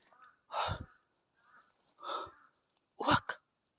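A large crow gives three harsh caws spaced about a second apart, fairly close and clear over a quiet background.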